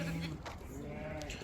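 Black Dolaq sheep in a flock offered for sale, with a short bleat rising over the noise of the animals, and someone speaking nearby.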